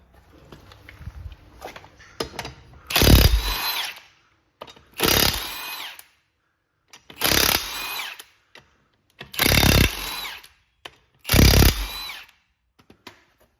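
Impact gun rattling off the wheel bolts on a Vauxhall Vivaro van, five loud bursts of about a second each, separated by short pauses, close up in a workshop with no talk.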